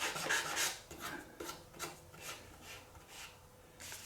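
Hand sanding with 400 grit sandpaper on a Warmoth baritone guitar part, soft repeated raspy strokes in a steady back-and-forth rhythm, quiet and close with no talk.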